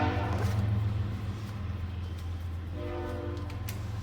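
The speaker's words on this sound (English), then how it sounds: "They got a train." A train rumbles past with a loud, sustained horn blast held close and steady over the continuous rolling noise of the rail cars.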